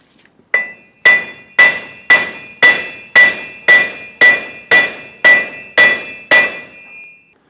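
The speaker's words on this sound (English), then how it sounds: "so you might have to tap this in as the wheel bearing comes out." Hammer striking the axle and wheel bearing hub of a 2003-2009 Dodge Ram 2500, twelve loud, evenly spaced metallic blows with a ringing clink, close up and alone.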